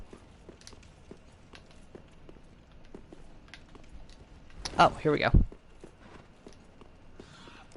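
Footsteps from the video game Dark Souls 3 in the Boreal Valley, a faint run of soft steps under quiet game ambience, then a sudden loud burst near the middle as a voice speaks briefly.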